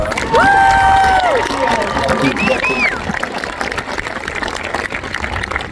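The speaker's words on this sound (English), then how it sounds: "one more huge round of applause" A crowd at a school district kickoff assembly in Hermiston applauds and cheers loudly. Whoops and shouts rise over steady clapping, with a voice also heard over the noise.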